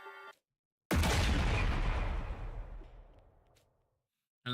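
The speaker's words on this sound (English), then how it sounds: "Another explosion, and after that, Siri stopped moving and fell silent." A single explosion effect from the video game The Hundred Line hits suddenly after silence, then a long rumbling decay fades out over a few seconds.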